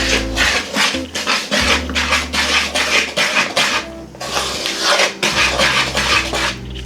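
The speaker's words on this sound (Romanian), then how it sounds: "Și începem să amestecăm" Cozonac dough being mixed with a spoon in a bowl, loud steady scraping and rubbing strokes in repeated bursts, close and alone with no talk.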